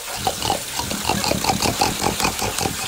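A French Bulldog being bathed gives a rapid series of snorting, pig-like grunts, close and fairly loud, with running water in the background.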